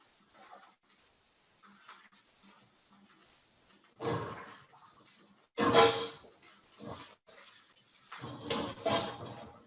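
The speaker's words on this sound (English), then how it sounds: "Straining out our potatoes here." Boiled potatoes are drained in a colander, with water splashing and gushing in several bursts that grow louder, close by in a home kitchen.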